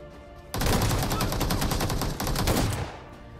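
Shotgun fire in the battle royale game PUBG: a dense, loud volley of rapid shots lasting a few seconds, with a brief break midway before the firing resumes.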